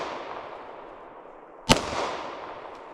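A single loud gunshot from a Fusion XL custom 10mm pistol cracks out alone, preceded by a steady outdoor hiss and followed by a brief decaying echo.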